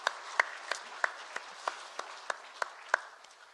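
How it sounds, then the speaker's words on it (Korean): Church congregation at a Sunday worship service giving a round of praise, sharp claps landing in a regular steady beat, fairly faint over a quiet room. "우리 하나님께 박수로 영광 돌리겠습니다"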